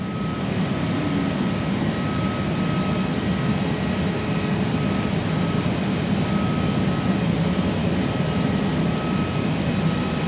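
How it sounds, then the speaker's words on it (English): Aircraft engine drone from a Nexus plane taxiing out for takeoff at Perth Airport, heard steady and continuous from an indoor viewing platform, a broad low roar with a faint whine, no talk. "We've got a Nexus just taxiing out for takeoff."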